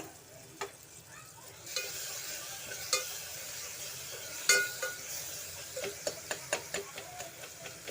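Cooked tomatoes are mashed and stirred in a pan for vegetable biryani, a soft sizzle beneath a run of sharp spoon-on-pan taps and scrapes that quicken into a rapid rhythmic series toward the end.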